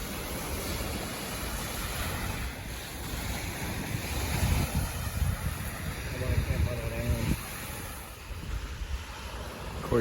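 Waves wash steadily against the shore of Lake Superior, with wind buffeting the microphone and a broad continuous roar of surf, no voices over it.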